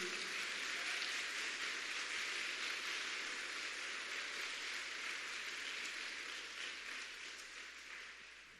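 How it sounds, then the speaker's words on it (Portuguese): A church congregation applauds together in a steady, dense wash of clapping that fills the room and fades slightly toward the end. "Se você recebe, aplauda a palavra do Senhor"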